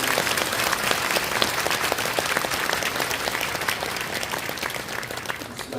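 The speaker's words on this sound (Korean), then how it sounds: "우리가 큰 박수로 한 번 더 감사해." A church congregation applauds a retiring elder at a thanksgiving service, steady dense clapping from many hands filling the hall at an even loudness throughout.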